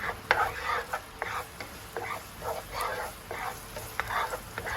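Crushed unpeeled garlic frying in a pan for stir-fried clams with chili paste, a soft bubbling sizzle broken by rhythmic scraping strokes of a utensil, fairly quiet and close.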